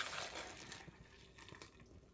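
Keto sweetened condensed milk is poured into a glass jar, giving a soft liquid splashing and trickling that starts stronger and tapers off, faint and close with no talking.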